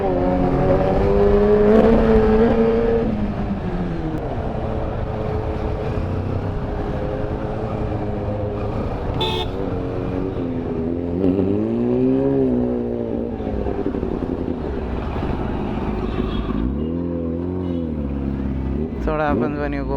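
Loud Kawasaki ZX10R sport bikes ride through Bangalore traffic, one ahead and one behind, their engines droning and rising steadily beneath speech and general road noise.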